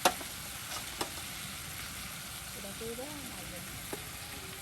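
Eggplant slices tossed with spices and frying in oil for begun bhaji: a steady soft sizzle with a few sharp clinks of a utensil, fairly close, under a low background hum.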